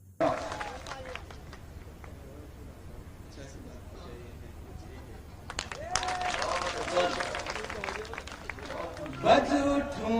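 Audience at a poetry recital bursts into scattered clapping that swells in the second half into fuller applause with crowd murmur, while a voice speaks over it.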